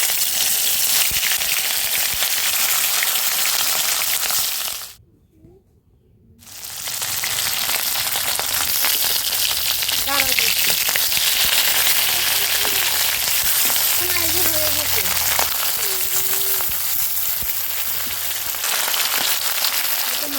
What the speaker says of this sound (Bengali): মাছটা শুধু তেল দিয়ে ভাজতেছি